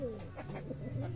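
Pigeons coo softly from a loft of breeder hens and cocks, a low rolling murmur of several birds close by, with faint chirps layered over the steady hum.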